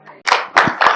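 Congregation at a Lutheran church clapping hands in three strong, distinct bursts, each a loud, close wash of many hands after a soft start.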